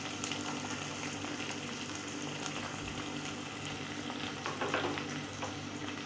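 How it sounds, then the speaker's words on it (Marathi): Medium-sized onion, finely chopped, frying in a pan for a green bean and potato vegetable dish, giving a steady, dense sizzle with faint scraping of stirring throughout, close and fairly quiet, with no talking. "आता त्याच्यामध्ये 1 कांदा घेतलेला आहे बारीक चिरून मीडियम साईजचा, तो चांगला भाजून घ्यायचा आहे।"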